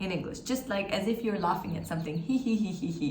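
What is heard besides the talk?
No everyday noises stand out.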